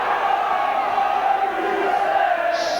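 Rugby league crowd at St Helens roaring steadily for Saints against Leeds, a dense, sustained wall of cheering and shouts filling the ground, loud throughout with a brief higher whoop near the end.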